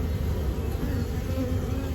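Honeybees buzz around beehives in early spring after the hive quilts are removed, a dense steady hum of many insects close by.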